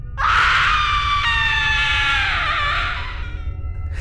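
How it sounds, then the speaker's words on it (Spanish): A single horrified scream rings out through a house, loud and sustained for nearly three seconds before trailing off, with no other voices. "Se escuchó un grito de horror en toda la casa."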